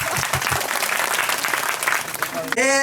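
Audience applause at a Christmas church gathering in a Myanmar village mission field, a burst of crowd clapping heard briefly under and around a speaker's amplified voice on a microphone.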